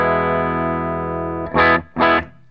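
A sustained bright, buzzy, treble-boosted electric guitar tone through a PRS Sonzera 20-watt combo amp rings out, then two short loud strummed chords follow, close and distorted.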